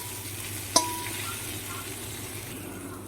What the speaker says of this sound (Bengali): একটু লাল লাল হয়ে ভাজা পর্যন্ত নাড়াচাড়া করতে থাকবো